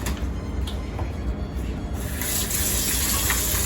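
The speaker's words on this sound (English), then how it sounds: "Rinse it good inside and out." Tap water runs steadily into a sink while a whole chicken is rinsed inside and out, a loud continuous gushing splash that grows fuller and brighter partway through.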